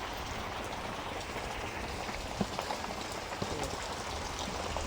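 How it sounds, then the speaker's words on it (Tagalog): Steady rain pours down outdoors during cooking, a dense hiss with scattered individual drops spattering nearby, even in level and without talk. "Inabutan kami ng ulan. Ang lakas ng ulan guys."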